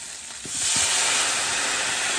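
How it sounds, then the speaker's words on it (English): Cooking wine poured into a hot steak pan for a bistro steak sets off a sudden loud, steady hiss that rises after a brief start and holds strong to the end, with no voices. "Add the cooking wine."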